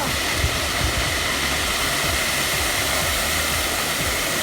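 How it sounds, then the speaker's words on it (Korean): A powerful waterfall near Eonyang roars steadily and loudly, a dense unbroken rush of crashing water close by. "여기 폭포가 지금 장난한 게 아니에요. 예, 폭포가 엄청 세요."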